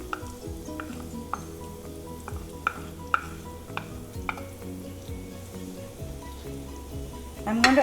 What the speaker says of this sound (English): you add the rai and the jeera or the cumin seeds, 1 teaspoon each. And let it splutter.